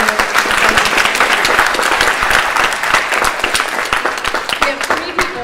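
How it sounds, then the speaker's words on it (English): Audience applause at a high school choir spring concert, a dense, loud burst of clapping that carries on steadily throughout before thinning slightly at the end. "So we want to give her a round of applause because she's been here."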